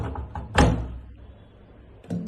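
The door of a front-loading washer-dryer combination is pulled open with a solid click and thunk, followed a moment later by a softer second knock as it swings.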